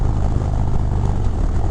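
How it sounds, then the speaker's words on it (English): A 2023 Harley-Davidson Road Glide ST with a Stage 4 135 V-twin crate motor runs loud and close, giving a steady, dense engine roar with no talking. "the legendary Harley Davidson V-twin with this new crate motor that they're making is just, it has gobs of power"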